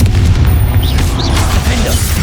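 The Confringo explosive spell in Hogwarts Legacy goes off as a loud, close, deep boom that rumbles and decays over about two seconds, with a faint whistling magical tail.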